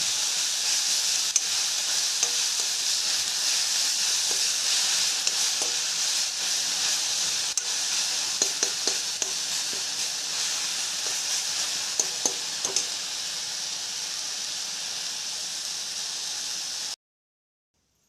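Nalgi, a wild leafy vegetable, fries steadily in a pan with a loud, even sizzle, broken by scattered clicks and scrapes of stirring, before cutting off abruptly.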